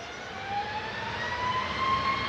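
A SunExpress Boeing 737 Max 8 jet departs Manchester Airport, its steady broadband engine roar rising slightly and holding at a moderate distance, with a faint whine drifting through the noise.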